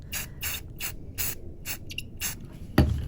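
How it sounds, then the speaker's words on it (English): Short bursts of spray paint hiss from a can onto a poured-paint Christmas bells piece, about seven quick even sprays in a row, ending with a soft knock. "I'm just doing short spray bursts just to control that overspray."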